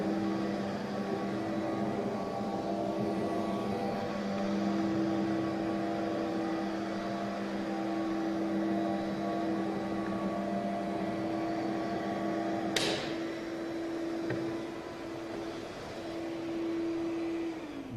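A dust collector vacuums the floor ahead of Kristal Revolution floor maintenance, putting out a steady, loud mechanical drone with a tonal hum. A brief sharp knock or click cuts in near the end, and nobody talks.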